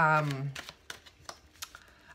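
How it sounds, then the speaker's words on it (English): A deck of tarot cards being shuffled in short, dry riffling clicks, just after a brief voice at the start. "I shuffle the cards, I put the energy in and I cut them"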